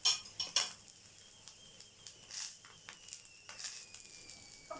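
A spoon stirs spicy potato and egg curry in a pan, scraping and clinking against the metal in quiet irregular strokes with faint background sizzle.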